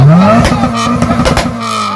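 Close and loud, the SR20VE engine in a Toyota Corolla fitted with a Honda ECU climbs in a quick rev, then holds high with rough, bursting exhaust pulses for a couple of seconds.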